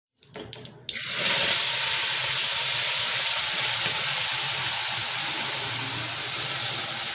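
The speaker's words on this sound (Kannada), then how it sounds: "ಈಗ ಸಾಸಿವೆ ಒಗ್ಗರಣೆ ಹಾಕಿ ಹುರಿಯೋಣ" Mustard seeds hit hot oil to temper a spicy ajwain-leaf (doddapatre) thokku, giving a few brief crackles and then a loud, steady hiss that carries on without a break.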